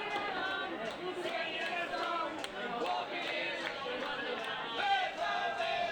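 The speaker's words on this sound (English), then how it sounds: "The crowd singing for Craig Lakin." A crowd at a pool shootout match sings in a steady, dense mass of voices that fills the room without pause, at moderate loudness.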